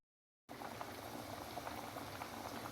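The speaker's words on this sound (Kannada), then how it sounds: "ಏನ್ ಹಸಿಮೆಣಸಿನ್ಕಾಯಿ ಇತ್ತಲ್ಲ ಅದನ್ನ ಇದಕ್ಕೆ ಕುದಿಯಕ್ಕೆ ಹಾಕ್ತೀನಿ. ಇದೆಲ್ಲ ಚೆನ್ನಾಗಿ ಕುದಿಲಿ" Pot of water with green chillies at a steady rolling boil for a traditional village bassaru, bubbling continuously and close after a short silent start, with no voices.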